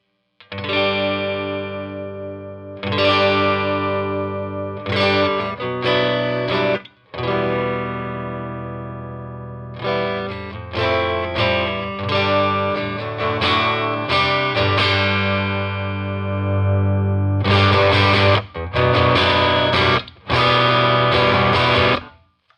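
Electric guitar played through a hand-wired Vox AC4 amp with the treble driven hard, giving a distorted, bright tone in strummed chords and short riffs with brief pauses, loud and close with no talking.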